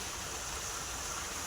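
Irrigation water rushes and gurgles into a field in a steady, continuous flow, close by, like a stream pouring through a channel.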